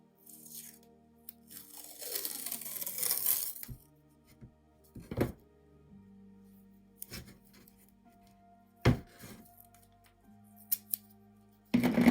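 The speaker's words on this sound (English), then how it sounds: "So to start my landscape, I'm going to tape my horizon line." Masking tape is pulled and torn for a landscape horizon line in an art project, giving a crackling rip followed by a few sharp snaps and taps, close and fairly quiet.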